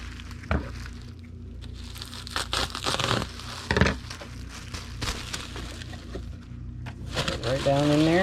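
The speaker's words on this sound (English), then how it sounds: "And we'll need to get a sheet of bubble wrap and cut it in half." Bubble wrap being cut, folded and rolled while packing model kit orders: close crinkling and crackling bursts of plastic sheet handling, intermittent, with a person talking over parts of it.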